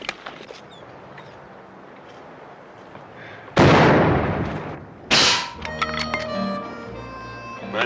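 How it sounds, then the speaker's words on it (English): Rifle fire in an old Western shootout: two loud, close gunshots a second and a half apart, each with a sharp burst and decaying echo, followed by ringing tones. "Mighty fine shooting, Paul."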